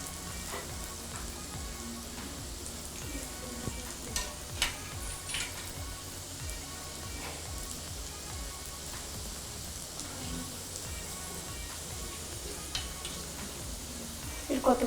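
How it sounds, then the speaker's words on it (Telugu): Chicken momo stuffing fries in a pan with a steady, dense sizzle, broken by scattered scraping and stirring clicks that grow louder near the end. "ఇవి బాగా ఫ్రై చేయాలండి. బాగా ఫ్రై చేసుకోవాలి. స్టఫింగ్ అంతా ఫ్రై ఎలా చేయాలి."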